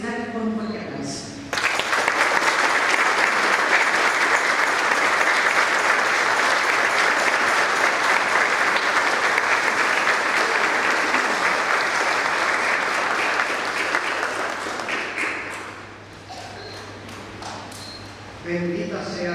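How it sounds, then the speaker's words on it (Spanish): A church community gives loud, sustained applause during a visit of Saint Bernadette's relics, a dense burst of clapping that starts abruptly, holds strong for over ten seconds, then fades as voices begin. "lo queremos expresar con un fuerte aplauso"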